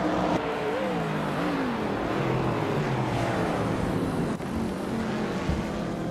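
A 1970 Alfa Romeo GTA race car engine in a racing video game revs loud and continuously, its pitch climbing and dipping through gear changes, with no voices.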